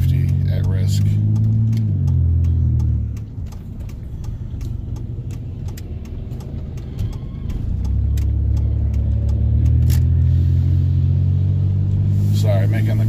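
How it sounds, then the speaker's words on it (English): A giant corn truck rumbles past while turning a corner beside a car, its low engine drone steady and loud throughout, with brief clicks and a dip in the rumble midway. "making the corner here, the giant corn truck next to me"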